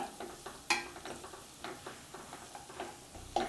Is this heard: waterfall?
no